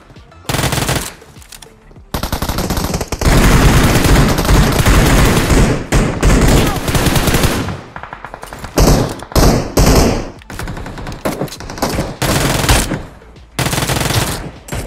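M416 assault rifle fire in the mobile shooter BGMI (PUBG Mobile) comes in loud, close bursts of rapid automatic shots. Long sustained volleys alternate with shorter sprays and brief pauses, with no talking over them.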